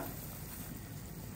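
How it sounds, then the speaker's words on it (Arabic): Bulgur wheat poured into a pot of boiling water on the stove gives a steady, close bubbling hiss that holds evenly throughout, with no talking. "غلت مية البرغل، بدي نزله هلأ"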